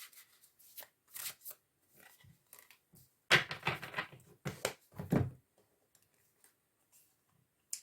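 Tarot cards are shuffled by hand in a run of quick riffling and slapping bursts, close and fairly quiet, with short pauses between them.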